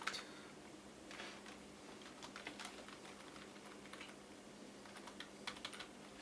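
Python code being typed on a computer keyboard: a steady, fairly quiet patter of key clicks with a few louder taps, alone with no talk.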